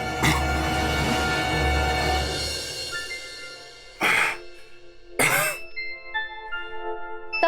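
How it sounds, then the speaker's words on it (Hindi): A man in a domestic drama scene coughs harshly twice, close by, in two short bursts after a stretch of noisy room sound. "मेरे से खांसी हो रही है"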